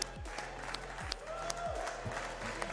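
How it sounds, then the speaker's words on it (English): An esports venue audience applauds with scattered, uneven claps and crowd noise, fairly faint, alongside a voice. "Everybody in this venue, let's give a round of applause for Ole Miss for their 4th place finish."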